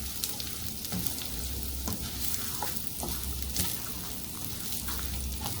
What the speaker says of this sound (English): Now that my oil is nice and hot, I'm going to start toasting the rice.